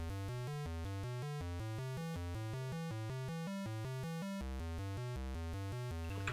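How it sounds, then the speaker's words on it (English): Arpeggiated chords play back as a steady stream of evenly spaced synthesized notes, moving through a progression with a sustained low bass beneath, clean and alone. "Our arpeggiated chords."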